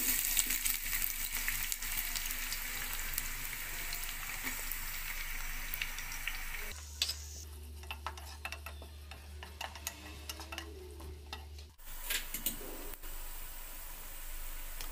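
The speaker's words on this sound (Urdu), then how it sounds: "گھی ہمارا گرم ہو گیا، اب ہم اس میں پیاز ایڈ کرتے ہیں" Sliced onions fry in hot ghee in a pan, a faint, steady crackling sizzle throughout that briefly gives way to a low hum midway before the frying resumes.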